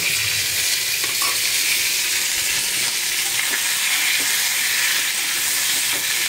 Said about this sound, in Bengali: দেখতে পাচ্ছ কড়াই তেলে মাছ ভাজা হয়ে গেছে।